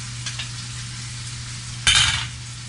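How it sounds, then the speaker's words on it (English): Gnocchi and vegetables sauté in a pan of sauce, a steady low sizzle with a mains-like hum beneath, broken by one scraping stir and clatter of utensil against the pan near the end. "Add the gnocchi to the sauce."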